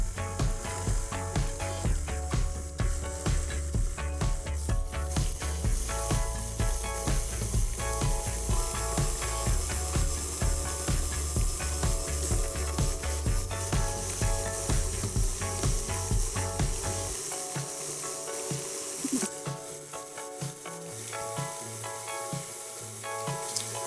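An electric mixer beating coffee cake batter whirs with a steady, loud mechanical buzz and rapid rattling for over twenty seconds. The tone shifts partway through as the speed changes.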